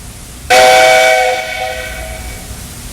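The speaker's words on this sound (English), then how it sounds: "Did you get your whistle fixed, Mr. C?" A loud steam whistle blasts suddenly and holds for about a second, then trails off into a hissing, fading tone.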